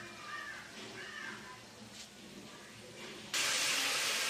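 Mutton hits hot oil with an abrupt, loud broadband sizzle that starts late and holds steady, after a quieter stretch of faint kitchen noise.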